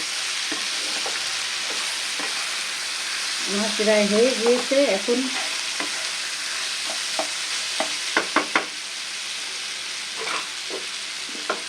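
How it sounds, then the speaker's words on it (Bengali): Steady frying hiss with scraping stirring strokes as figs are fried down in a pan, a brief spoken comment partway through, then more intermittent stirring clicks as raw potatoes and coconut go in. "এটা একটু ভালো করে ভাজা ভাজা করে কষে নেব"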